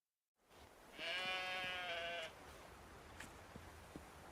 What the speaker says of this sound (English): Hey, sheep, come here.